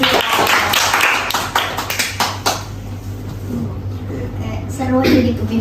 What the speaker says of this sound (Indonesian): tepuk tangan dong untuk Vira